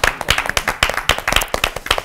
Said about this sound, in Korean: 저희 환영의 박수